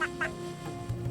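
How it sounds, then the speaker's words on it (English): A duck gives a couple of short, nasal quacks in quick succession, close and clear against a quiet background. "This is duck."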